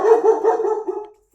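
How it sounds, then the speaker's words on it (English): A pet dog barks indoors in a quick close series of about five sharp barks that trail off into silence. "That's my dog."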